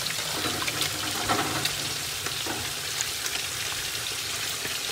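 Hot water poured into a cooking dish on low heat, a steady broadband hiss and sizzle lasting the whole stretch at moderate level with faint splashy flickers, no talk.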